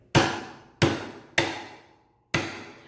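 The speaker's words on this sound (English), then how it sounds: "I take either a rawhide mallet or a rubber mallet and I'm just going to tap it" A rawhide or rubber mallet taps a pancake die to knock out a cut blank. Four close, sharp knocks ring out alone, each decaying quickly, with a short pause before the last.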